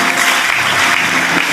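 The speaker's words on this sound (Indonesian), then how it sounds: "Beri tepuk tangan buat Tuhan yang baik" A church congregation claps together during a sermon, a dense, steady burst of applause filling the space for a moment, loud and close with no voice over it.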